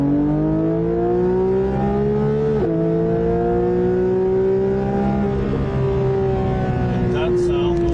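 A race car engine holds a loud, sustained high-pitched drone, briefly dipping and shifting gear before climbing steadily again, close to the listener.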